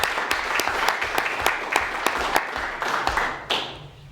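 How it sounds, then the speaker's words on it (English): A crowd at a county commissioner meeting gives sustained applause. Clapping is dense and even, with a few sharper individual claps standing out, and it thins slightly toward the end. "let's give them a round of applause for their service"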